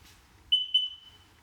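Combined smoke and carbon monoxide detector sounding its test beep: two loud, piercing high-pitched chirps in quick succession, the second trailing into a ringing tone, in a quiet room.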